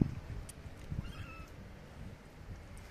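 Tomcats in a yard, a faint brief meow rising out of low rustling background noise, distant and quiet.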